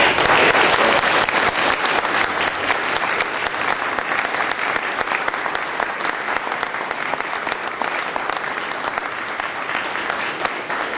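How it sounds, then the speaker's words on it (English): Dense, loud audience applause at a campaign announcement for a county board seat, a steady wash of clapping hands that fills the whole stretch without a break. "One more round of applause"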